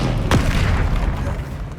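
Depulso spell effect in the game Hogwarts Legacy, a single deep booming blast with a brief swooping whoosh, loud and close over a dense rumbling game backdrop.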